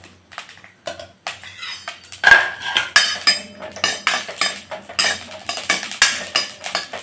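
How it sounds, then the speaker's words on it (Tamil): Green chillies sauté in sesame oil in a metal kadai for a mutton kuzhambu, with rhythmic, close spatula scrapes and clinks on the pan over a faint sizzle. "பச்சை மிளகாவை நல்லா வதக்கி எடுத்துக்கணும்."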